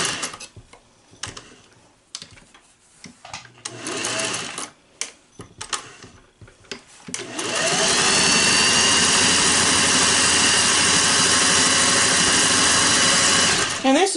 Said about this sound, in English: This machine will sew about anything you want to put under it.